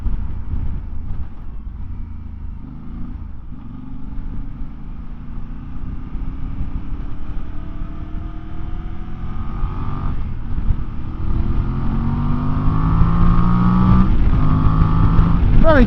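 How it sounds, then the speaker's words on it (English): Voge DS800X Rally or DS900X motorcycle engine roaring while being ridden, a steady rising drone with climbing revs and wind rush, loud and close throughout. "Nice raspy roar from that engine."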